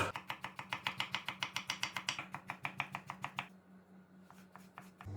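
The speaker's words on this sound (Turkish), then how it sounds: "Domateslerimizi de ince ince doğruyoruz." Rapid, steady knife chops on a cutting board, about two dozen crisp strikes in quick rhythm as tomatoes are finely chopped, then a few slower, fainter chops at the end.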